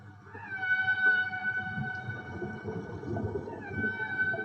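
A whale's song carries through the ocean, sustained tonal wails gliding up and down over a low rumbling bed, steady and fairly loud throughout, with no talking.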